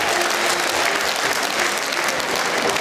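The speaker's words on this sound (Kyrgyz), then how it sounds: "Кол чабуулар болсун туугандар." An audience at an aitysh improvised poetry contest breaks into sustained, dense applause, loud and full throughout with no pause.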